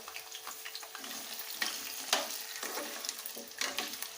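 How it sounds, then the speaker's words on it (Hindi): Potatoes and fenugreek leaves sizzle steadily in hot oil with garlic in a pan, with brief louder crackles and stirring scrapes as food hits the hot surface; no talking. "अब इसमें हम मेथी भी डाल देंगे और आलू भी साथ डाल देंगे"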